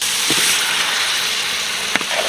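Mutton liver hitting a hot pan with spices, ginger-garlic paste and mint, a steady loud hiss of sizzling oil close by with a couple of brief crackles, no voices.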